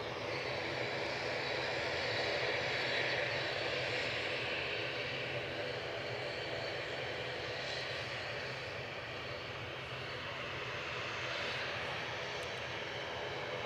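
Aircraft engines at Edinburgh Airport give a steady, broad roar that holds at a constant distance and level throughout, with no talk over it.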